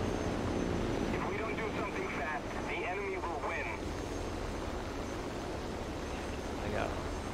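Aircraft engines drone overhead during a War Thunder tank battle, a steady loud roar that covers the whole stretch, with game sounds layered over it.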